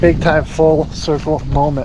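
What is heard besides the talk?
No everyday noises stand out.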